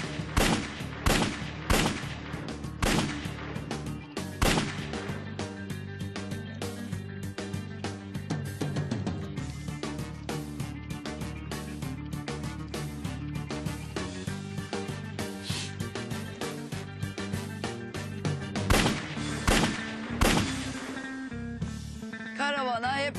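Sustained gunfire crackles through a long exchange of sharp, loud shots in rapid bursts and scattered single reports, with brief pauses between volleys and a faint voice now and then under the firing.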